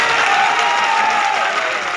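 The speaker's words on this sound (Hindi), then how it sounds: "अरे सही है तो ताली बजा" Rally crowd in Ashok Nagar bursting into loud, sustained applause and cheering at a BJP election speech, a dense wash of clapping that holds steady for the whole stretch.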